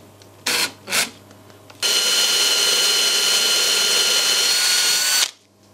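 Two short bursts of a power drill, then a long, steady high-pitched whine of the drill biting into metal before it stops abruptly.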